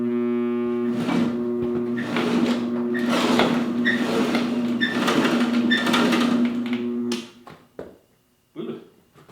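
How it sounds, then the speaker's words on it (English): A cheap Alibaba rock crusher's shaker deck and conveyor run with a loud, steady motorized hum and rattling vibration for several seconds, then cut out into a few brief knocks. "I'm just gonna try the shaker deck and the conveyor."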